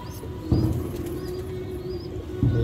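A pigeon flaps its wings while being handled, giving two short, loud bursts of flapping close by over a quieter steady background.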